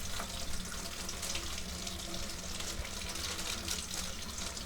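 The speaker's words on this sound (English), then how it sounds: "Okay, let's wash and dry." Kitchen tap water pours steadily into a sink while vegetarian produce is washed, a continuous close hiss and splash with no talking.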